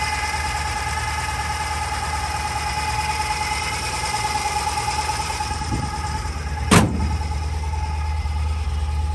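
A 1957 Chevrolet Bel Air engine idles steadily with a constant whine from the belts, one brief sharp knock near the end, and no voices.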